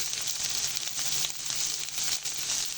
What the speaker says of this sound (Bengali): আলুটা আমার মাছের সঙ্গে খুব ভালো করে ভাজা হয়ে গেছে